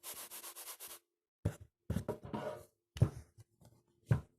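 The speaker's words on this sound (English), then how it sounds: "So firstly we want to level the sand." Sand is scraped and smoothed level by hand in a quick series of close, soft rubbing strokes, separated by short pauses.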